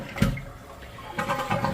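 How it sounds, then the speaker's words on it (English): A dual-flush toilet runs its number 2 full flush, a close, rushing swirl of water draining from the bowl, followed by the steady hiss of the tank refilling. "Let's go ahead and do a number 2 flush here real quick."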